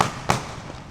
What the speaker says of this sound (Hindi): यहाँ पे ये पटाखे बज रहे थे ना